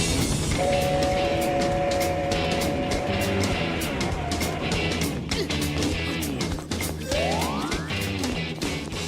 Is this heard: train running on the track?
yes